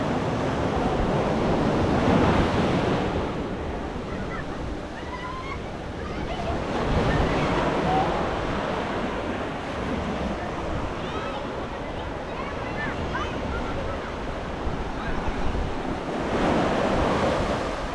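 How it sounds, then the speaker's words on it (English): Surf rolls in at Anjuna Beach in Goa, waves washing and breaking in broad swells under a constant wind-blown roar, with the tide in and no clear voices. "enjoy the surf and the sand on a beach called Anjuna"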